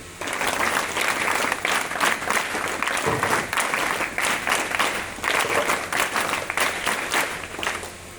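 Schoolchildren at a Z.P. school clap together as a group, producing loud, dense applause that runs steadily for several seconds with a brief dip partway through.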